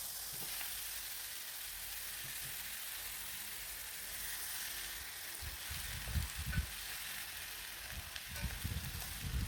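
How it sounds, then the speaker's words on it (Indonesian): A sambal of tomato, shallot, garlic and bird's eye chili frying in a little oil hisses steadily at a moderate distance, with occasional stirring knocks and thumps breaking through later on. "Sambelannya digoreng sampai layu ya teman-teman"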